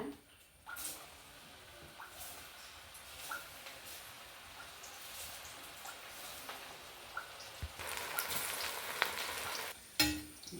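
Raw jackfruit bajji frying in hot oil, a soft, steady sizzle with scattered crackles and a brief louder burst near the end, heard up close in a quiet kitchen.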